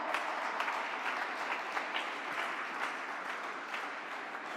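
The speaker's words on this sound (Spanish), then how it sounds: "Dale ese aplauso a papá." A church congregation applauding, dense continuous clapping from many hands that fills the room, steady and fairly loud from start to finish.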